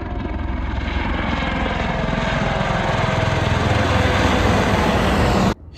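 A medevac helicopter passes overhead with a loud, steady rotor and engine roar that holds constant before cutting off abruptly at the end.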